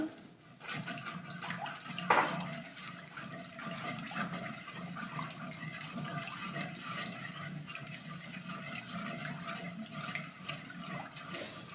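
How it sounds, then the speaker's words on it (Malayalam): Tamarind water is poured into a pot of tamarind curry and stirred, making a steady, soft watery wash that runs throughout with no talking. "ഞാനൊരു നെല്ലിക്ക വലുപ്പത്തിൽ പുളി പിഴിഞ്ഞ് വെച്ചിട്ടുണ്ട്. അത് ഇതിലേക്ക് ഒഴിച്ചു കൊടുക്കണം."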